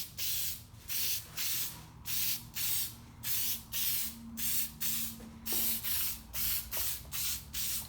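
Plasti Dip aerosol sprayed onto a Camaro spoiler in a run of about a dozen short, even bursts of hissing spray, close and steady in rhythm with brief gaps between, no voices.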